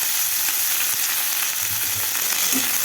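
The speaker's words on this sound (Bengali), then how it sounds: "এটা দিয়ে হালকা ভাজা ভাজা করে দেবো।" Chopped onion and eggplant fry in hot oil in a pan with a loud, continuous sizzle and crackle that stays even from start to finish, with no voices.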